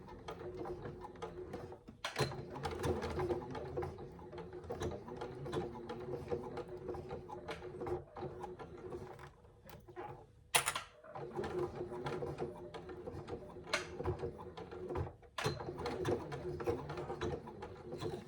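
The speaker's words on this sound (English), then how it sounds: "I'm going to run another line of stitching just parallel to the one I've just made" A sewing machine runs faintly, stitching the strap of a zip pouch. Its motor hums in uneven bursts, with brief pauses and clicks between the runs of stitching.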